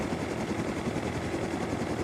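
A helicopter in the Rust console game whirs nearby, a loud, steady engine drone with rapid rhythmic rotor pulsing throughout, with no talk.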